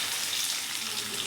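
Beetroot laddus frying in a pan with chilli and oil, making a continuous close hiss and sizzle with no talking over it.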